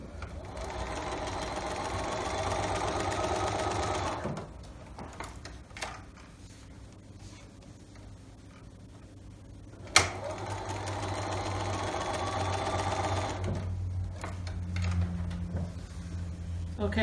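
A sewing machine stitches fabric pieces in two long steady runs of rapid close whirring, separated by a quieter pause with handling clicks and a sharp knock.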